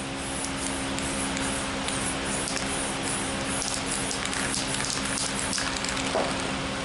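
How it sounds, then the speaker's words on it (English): Montana 94 spray paint being sprayed onto a white surface, a steady hiss that keeps going at an even level from start to finish, with faint background hum and no talk. "Now I'm gonna spray"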